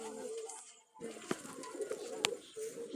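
Pigeons coo softly and repeatedly nearby, a low throaty warble over faint background noise and a few distant voices.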